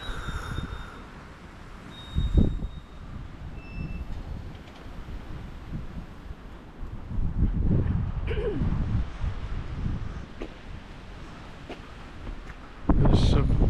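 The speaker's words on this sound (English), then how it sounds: "it's a bit windy today, so you might hear a bit of wind" Gusty wind buffets the microphone during a sunny winter walk through Broadway in the Cotswolds, rising and falling in strong rumbling bursts, loudest near the end.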